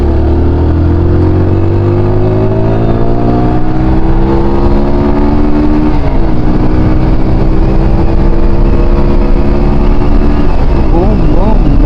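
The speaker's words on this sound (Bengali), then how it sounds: "তো চলো একটু গাড়িটা ছুটাই" A car engine revs up while driving, loud and close, its drone climbing steadily in pitch, dropping briefly mid-way at a gear change, then rising again over constant road rumble.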